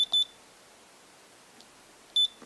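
A Navman 3100/3150 device sounds its alarm, two short electronic beeps spaced about two seconds apart over quiet background hiss.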